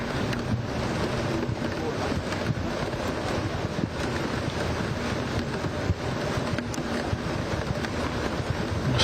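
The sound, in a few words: rain falling on outdoor tennis court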